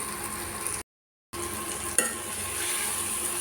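Brinjal and dried fish sautéed with masala in a pan: a steady sizzle with stirring scrapes, a brief silent gap, then a sharp spoon clink against the pan before the frying hiss resumes close up.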